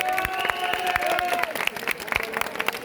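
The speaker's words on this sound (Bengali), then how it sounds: "এটার জন্য একটা হাততালি হবে না?" A crowd at a college protest gathering breaks into applause, a dense burst of clapping that lasts about three seconds and sounds fairly close, mixed with raised voices and cheering.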